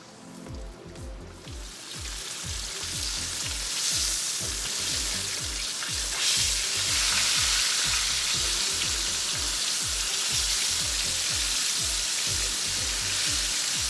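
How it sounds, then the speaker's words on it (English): Milkfish sizzles and crackles steadily in hot oil, a dense frying hiss that swells slightly and holds loud and close throughout, with no voices. "And then we're going to fry the fish."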